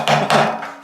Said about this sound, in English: Shock it with a hammer.